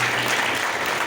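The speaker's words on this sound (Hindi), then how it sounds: "जोरदार तालियां बजाइए।" Applause from an audience at a BJP welcome event for the mayor and councillors at the party's city office, a steady, dense wash of clapping lasting about a second with no talk.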